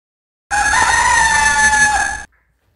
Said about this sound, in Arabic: ديك.